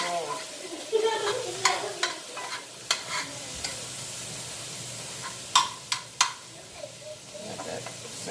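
Steak sizzles in a hot pan while a utensil stirs and scrapes it in repeated sharp bursts. A soft voice is heard at times under the close, steady frying hiss.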